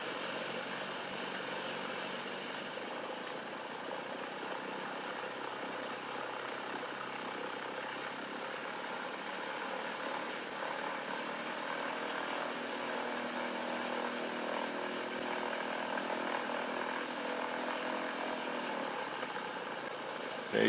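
A Cessna 172 single-engine aircraft idles on the ground while taxiing, its engine holding a steady, even drone for the whole stretch, close and continuous with no voices over it.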